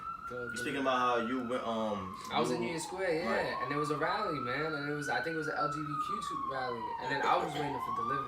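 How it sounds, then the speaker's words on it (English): Emergency vehicle siren wailing loudly along a street in an urban neighborhood, its rising and falling tone running throughout beneath someone talking continuously in the foreground. "excuse the sirens"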